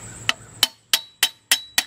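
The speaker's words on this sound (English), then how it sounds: "just a regular hammer," An ordinary hammer strikes a rusted rear brake drum on a 1994 Ford Explorer six times in a steady rhythm, each blow a sharp, ringing metallic clang that decays quickly, loud and close with no voices.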